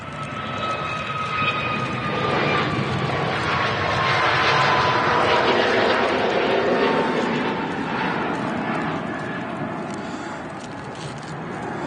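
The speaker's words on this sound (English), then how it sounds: "I'm missing a Aer Lingus departing" An Aer Lingus airliner departs Manchester Airport, its engine roar swelling to a broad peak mid-clip and then slowly fading, with whining engine tones sliding gradually downward.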